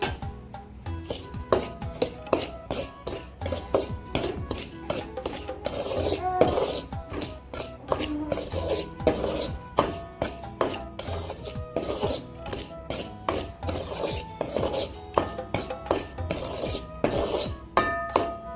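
Green gram flour is roasted with almonds in a pan, with a spatula scraping and clinking against the metal in a steady, close rhythm of rubbing and tapping strokes.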